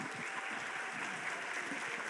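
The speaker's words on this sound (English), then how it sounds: "So let's give this panel another round of applause." A steady wash of audience applause for a panel at a community summit, dense and even clapping from a crowd that holds at constant loudness throughout.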